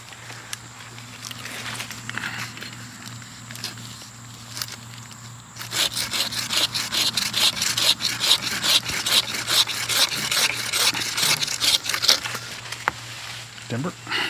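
Someone saws through a tree trunk by hand, a rapid rasping stroke rhythm starting midway and continuing steadily up close after quieter rustling.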